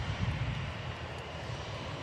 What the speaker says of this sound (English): The EasyJet about to taxi past.